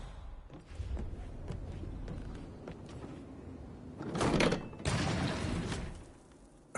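A hidden door to a secret passage slides open in Hitman 3, a quiet mechanical grinding and creaking run with a louder clunking burst near the end.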